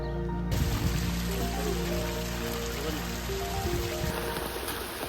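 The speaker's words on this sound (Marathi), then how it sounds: "खूप पाऊस पडतोय" Heavy monsoon rain on the Savlya Ghat trek in Tamhini pours down in a constant loud hiss, close and unbroken, after a brief quieter moment at the very start.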